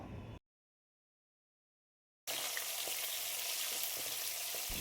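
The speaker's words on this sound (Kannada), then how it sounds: "ಚಿಕ್ಕದಾಗಿ ಕಟ್ ಮಾಡ್ಕೊಂಡಿರುವಂತಹ ಕ್ಯಾಪ್ಸಿಕಮ್ ಹಾಕಿ ಸ್ವಲ್ಪ ಫ್ರೈ ಮಾಡ್ಕೋಬೇಕು" Chopped capsicum fries in hot oil with cumin, giving a loud, close, continuous sizzle that starts after a brief silent gap and carries on steadily without any talking.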